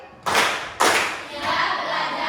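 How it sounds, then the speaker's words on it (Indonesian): Two loud, reverberant claps from a group during a classroom ice-breaking exercise, one right after the other, followed by a rising burst of more noise. "Tepuk 2 kali."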